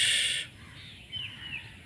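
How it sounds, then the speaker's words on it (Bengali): Birds calling on a quiet morning: a loud, close crow-like caw opens, then fainter, scattered calls and chirps follow over soft background noise. "পাখির কোলাহল পাখির গান"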